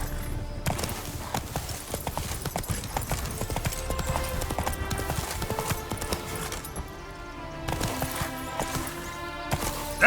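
Horse hooves clip-clopping in the video game The Witcher 3, a steady run of hoofbeats on hard ground with a brief lull near the end, loud and close, with a faint whinny.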